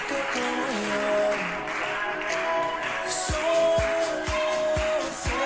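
A crowd cheers and shouts over loud bachata music during a dance performance in Jerusalem, the roar steady beneath the song with rhythmic bass beats.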